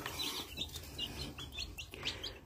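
Newly arrived baby chicks peep in a brooder with a glass cover, a quiet stream of short high chirps repeating over faint background noise.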